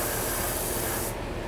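A spray gun lays paint onto an RC car body in a steady, close hiss that stops abruptly just before the end.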